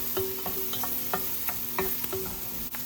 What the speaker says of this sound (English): stir the onion until it's fragrant or slightly brown